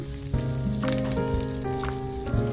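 Chicken breast sizzles in a hot pan, a dense, continuous crackle with some tonal hum underneath, close and fairly loud.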